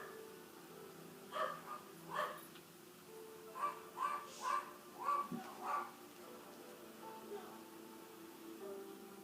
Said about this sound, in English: we have dogs barking for some reason